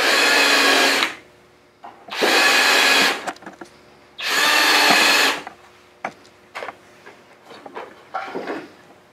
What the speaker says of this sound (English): Finish drilling those holes at the top and bottom of each side panel.